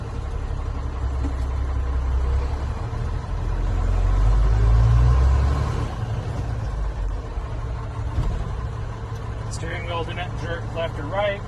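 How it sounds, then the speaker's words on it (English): A Class A CDL truck creeps forward at walking pace during a brake test, its engine holding a steady low rumble throughout. A few faint tonal beeps sound near the end. "I will release the brake, roll forward about approximately 5 miles an hour, and slowly push on the clutch and push on the service brakes gently"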